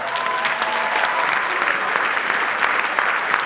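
Crowd at a high school marching band concert applauding, a thick continuous wash of clapping from many people, with faint voices mixed in beneath it.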